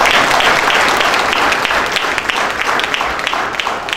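A stage audience at an inauguration ceremony for UPSC prelims students claps loudly and continuously to welcome a guest, a dense, sustained round of applause filling the hall with no speech over it.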